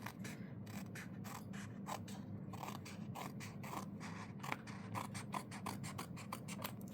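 Scissors snip through printable paper for a fall journal spread, a rapid run of crisp, close cuts repeating steadily with no talk.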